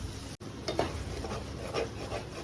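Egg bhurji is stirred in a pan on low flame, with a soft continuous sizzle and a few scraping strokes of the spoon against the pan, quiet and close.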